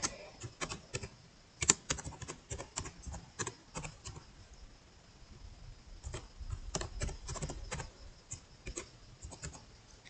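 Irregular bursts of computer keyboard typing as code is entered into RStudio, crisp clicks arriving in quick clusters with short pauses, close and fairly quiet against a low background.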